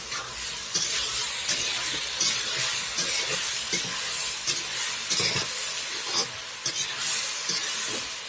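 Brinjal frying in a pan with turmeric, chili, cumin and coriander powders, a continuous close sizzle with repeated scraping strokes of a spatula, steady and even throughout, with no talking.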